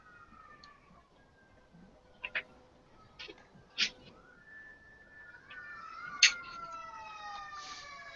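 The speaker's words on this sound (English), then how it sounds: "Now I got sirens going right past the house." Sirens from emergency vehicles passing outside a house, wailing tones that rise and sweep faintly in the distance and grow a bit louder toward the end, with a few sharp clicks and taps nearby.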